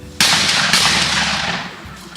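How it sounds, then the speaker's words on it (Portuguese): A loud, close shotgun blast at a skeet shooting final, one sharp report followed by a long ringing decay, then a second shot blending into the tail. "No momento, atirando o Rodrigo Simões."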